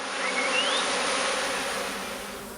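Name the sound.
honey bees moving into a new hive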